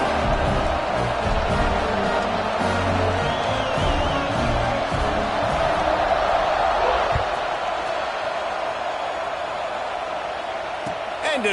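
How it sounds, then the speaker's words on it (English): Football stadium crowd roaring steadily before kickoff, a dense, loud wash of cheering and noise with scattered shouts, constant throughout. "this crowd now ready to get behind them"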